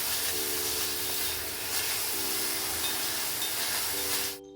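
Ginger, garlic and curry leaves sizzle in oil in a pan over a medium-to-low flame. A loud, continuous frying hiss holds steady close by, then cuts off sharply at the end, with no talking.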